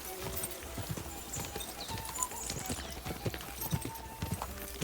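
Horse hooves clip-clop at a gallop in a medieval game, a steady rapid rhythm of hoofbeats with faint snorting, close and fairly loud over ambient noise.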